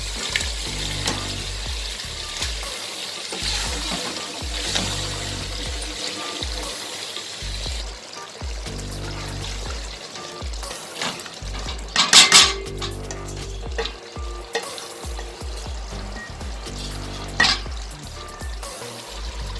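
Potatoes and eggplant for aloo baingan sabzi fry and get stirred in a pan: a steady loud sizzle under frequent metal spoon scrapes and clinks, with a sharp clatter burst near the middle, no voices.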